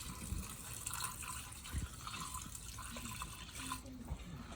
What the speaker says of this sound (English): we're going to add our chicken broth and our artichoke hearts